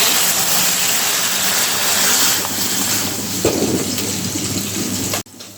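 Dal lentils tipped into a pot of hot oil with fried dry chillies and cumin, a steady close bubbling hiss broken by a brief rushing splash of the pour, then cutting off abruptly.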